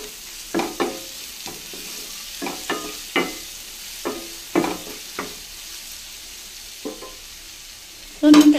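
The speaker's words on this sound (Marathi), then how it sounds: "दोन मिनिटं टोमॅटो शिजवून घेऊया।" Tomatoes cooking in a pan of bhindi fry masala, a low constant sizzle broken by repeated sharp scrapes and knocks of a spoon stirring, ending in a brief louder clatter.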